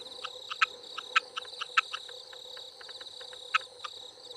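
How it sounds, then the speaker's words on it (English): Frogs calling in a dense chorus after rain in Brisbane, with sharp repeated chirps rising above a steady trilling drone, moderately close and continuous. "Especially after rain, you'll hear lots of the frogs going off."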